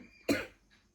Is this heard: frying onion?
no